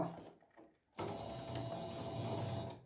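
A sewing machine stitches two layers of fabric for a two-colour patch appliqué placemat, starting abruptly after a quiet moment and running as a steady, close mechanical whir.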